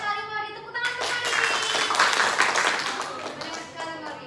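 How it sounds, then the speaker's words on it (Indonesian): A classroom of children claps hands together for a classmate, a dense burst of mixed clapping that swells and fades over a few seconds, with a teacher's voice speaking just before it starts. "Tepuk tangan untuk Mori"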